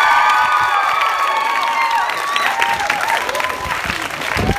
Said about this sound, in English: Can we give, please, Mr. Bicknell and Miss Blackwell a big cheer for all the hard work?